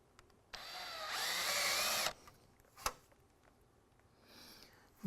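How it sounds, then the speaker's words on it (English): A Dremel rotary tool grinds a rust spot on a Ford Mustang body panel, one steady high-pitched whirring burst of about a second and a half, close and fairly loud, followed by a sharp click and a fainter brief run-up near the end. "I'm going to try to run straight out across there with my Dremel tool"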